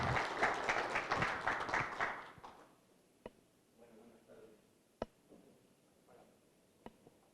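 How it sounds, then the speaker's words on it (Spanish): An audience at a tax-law talk gives a short burst of applause to welcome a guest doctor, loud clapping for about two seconds that dies away into a quiet room with a few faint ticks and knocks. "Les pido un fuerte aplauso, por favor, para darle la bienvenida."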